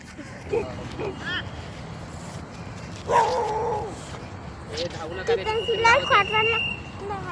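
Dogs bark and yip in short, scattered bursts, some high and whining, while people talk nearby in a garden in Kharghar.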